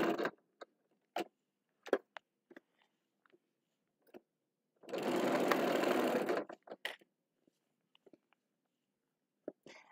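A sewing machine stitches a cloth diaper, with the front stretched slightly as it feeds through. One loud, steady burst of stitching runs for about two seconds mid-clip, surrounded by sparse clicks and handling taps.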